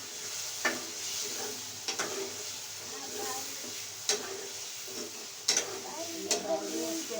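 Tomatoes, yellowed from the freezer, are tipped into a pot of moong dal and fry with a faint, steady sizzle, broken by occasional sharp clicks of a spoon against the pot.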